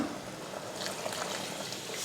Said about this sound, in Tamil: இப்போ குழம்புக்கு தேவையான தண்ணி சேர்க்கலாம்.